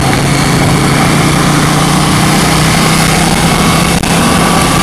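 A KTM 790 motorcycle engine runs steadily at about 4,000 RPM, a loud, constant close-up drone with no breaks and no talking.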